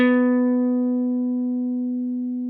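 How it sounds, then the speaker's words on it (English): A single sustained synthesized tone with a steady pitch and bright overtones. It starts sharply and slowly fades over a few seconds. "if you listen to a single note"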